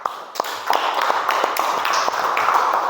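Middle school pupils in a religious education class clap for a classroom sketch. The clapping is brief and uneven, with individual claps standing out, and quiet voices murmur underneath.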